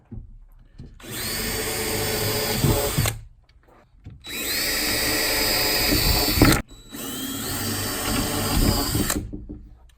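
A power drill bores through a plywood sub-floor in a Sprinter van, whining loud and close in three sustained runs of about two to three seconds each, separated by short pauses.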